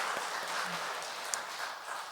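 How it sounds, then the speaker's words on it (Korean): Congregation applause at a Sunday afternoon worship service in a church, a steady, fairly faint wash of clapping from many hands filling the room, continuous with no talk over it. "우리 하나님께 우리 감사의 박수 한번 올려드리겠습니다."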